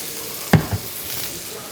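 Olive oil in a hot pan on the stove gives a soft, steady hiss of sizzling, broken by a brief louder clatter near the start, close and without talk.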